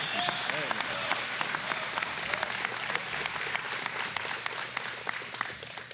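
An audience at a ribbon cutting applauds, dense steady clapping from a crowd that holds at an even level for several seconds, with a speaker's voice faintly underneath.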